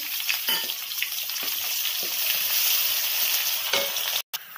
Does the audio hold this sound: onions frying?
yes